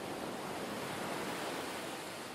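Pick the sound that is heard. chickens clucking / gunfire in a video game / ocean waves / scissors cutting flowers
ocean waves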